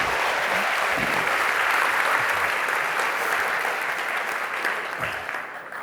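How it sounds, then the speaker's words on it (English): Loud, sustained applause from an audience right after a presentation at a Society 4.0 event in Amsterdam, a dense wash of clapping that holds steady for several seconds and only eases slightly near the end. "A very loud applause."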